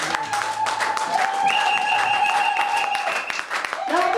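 A church congregation applauds steadily and fairly loudly throughout, with sustained tones from a keyboard or singing running over the clapping.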